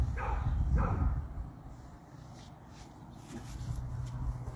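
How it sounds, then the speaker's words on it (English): A puppy gives two quick barks close by, followed by faint yips and whimpers further off against a low background rumble. "I hear another puppy."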